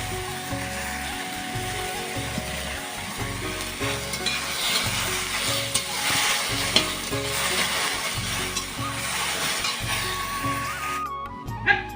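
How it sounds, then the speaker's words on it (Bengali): Sour curry bubbling on the stove after a five-spice tempering, a steady sizzle with stirring under background music, close and moderately loud, briefly cutting off near the end. "তো এই যে টকটা ফুটতে শুরু করে দিয়েছে"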